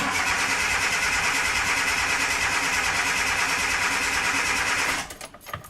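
A Suzuki Samurai engine with a Microsquirt EFI conversion cranks during an ignition test, a loud, steady, dense whirring drone for about five seconds before it abruptly cuts off into brief faint rattles.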